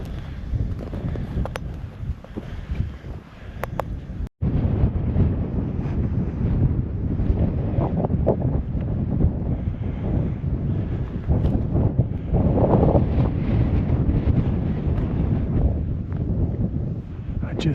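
Strong wind buffets the microphone on a breezy March desert evening during a night rabbit hunt, a steady low roaring rumble that fills the whole stretch with a brief dropout near the start.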